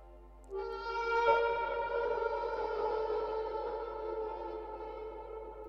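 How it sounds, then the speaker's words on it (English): A harmonica heavily processed with effects plays one sustained, chord-like tone of about five seconds. It swells in near and loud after a brief quiet start, with no voice over it. "I added some effects to it, so it doesn't really sound like a harmonica right now"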